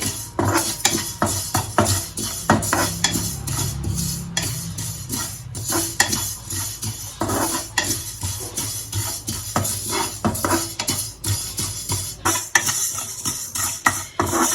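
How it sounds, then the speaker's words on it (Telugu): White sesame seeds roasting in a pan while being stirred, with steady scraping and clinking from the spoon against the pan under a soft sizzle, close and continuous with no talk. "తెల్ల నువ్వులు, అవి కూడా పోసి వేపుకోవాలి"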